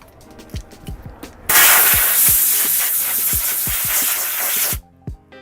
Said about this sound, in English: Take your air hose,